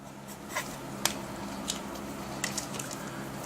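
Marker or chalk writing on a board during a geometry lesson, faint scattered scratchy taps and short strokes over a quiet room hum, no voice heard.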